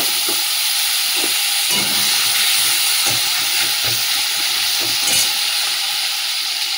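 Garlic, onion and green chilli frying in leftover fish oil in a kadai, a loud continuous sizzle with intermittent spatula stirring knocks close by and no talking.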